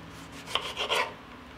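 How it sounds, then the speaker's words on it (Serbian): A knife slicing fresh tomatoes for a stew makes a few short, close rasping strokes in quick succession, then stops against a quiet background with no talking. "I na kraju ću iseckati 5 paradajza."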